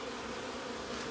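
Dense, steady buzzing of thousands of bees from a 15-year-old hive being captured on a piece of sheetrock, a continuous close hum with no talking.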